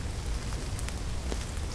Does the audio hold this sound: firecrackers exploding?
no